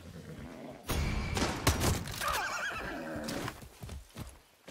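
A horse in Far Cry 6 gives a loud warbling whinny, mixed with hoof clip-clops and thuds, close and prominent for several seconds.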